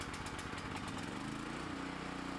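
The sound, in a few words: Briggs and Stratton generator engine running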